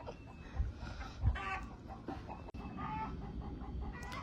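Chickens cluck and squawk in agitated bursts, a few sharper calls standing out over a steady background of fowl noise.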